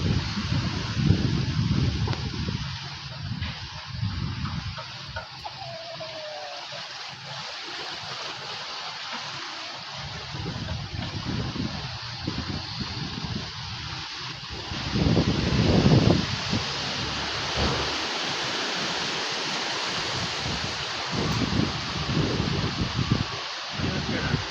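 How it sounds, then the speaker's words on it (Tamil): Strong wind gusts through a swaying tree on a rural farm with a cow nearby as rain approaches, a loud rushing roar that rises and falls in surges, with a voice talking over parts of it. "காற்று வேறு கொஞ்சம் பயங்கரமாக அடிக்க ஆரம்பிச்சிருச்சு. இந்த மரத்தை பாருங்கள் எப்படி ஆட்டம் ஆடுதுன்னு."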